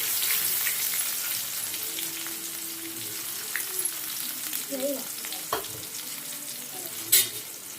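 Onions for chicken curry fry in hot oil, a constant close sizzle with occasional soft stirring knocks and a brief louder scrape near the end.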